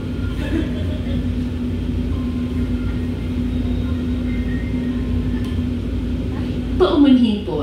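An LRT train on the UN Avenue to Dr. Santos Avenue line hums steadily as it idles and creeps forward behind a stopped train, a constant tonal drone under the cabin noise, with a brief rising whine near the end.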